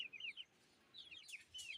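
Month-old chickens raised from chicks, clucking and chirping in short high bursts at a moderate distance over a low background hiss, two clear calling spells with a brief quiet gap.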